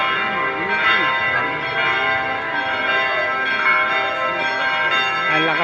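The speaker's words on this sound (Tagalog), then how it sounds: "Ang lakas po ng tunog ng kampana." Church bells of a Padre Pio church ring loudly and continuously on a Sunday, a dense wash of overlapping metallic tones with faint background voices underneath.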